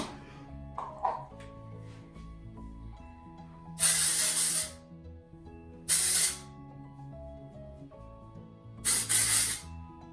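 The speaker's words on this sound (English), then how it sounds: "you can just spray that in there and leave it like that" Three short, loud bursts of volumizing texture spray hissing from an aerosol can into curly hair, separated by pauses, over a quiet low background hum.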